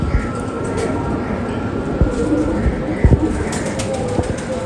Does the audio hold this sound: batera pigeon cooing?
yes